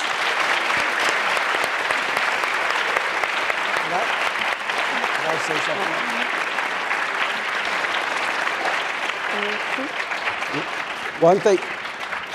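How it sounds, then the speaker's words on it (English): Steady, dense applause from an audience at a youth town hall in Simi Valley, continuing for the whole stretch while a voice speaks briefly near the end. "can we give a huge round of applause for our amazing panelists?"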